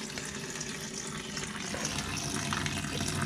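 Water drains steadily from a car's cooling system in a continuous splashing, trickling flow, close and fairly loud throughout with no pauses.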